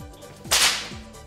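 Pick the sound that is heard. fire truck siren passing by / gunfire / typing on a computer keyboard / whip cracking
whip cracking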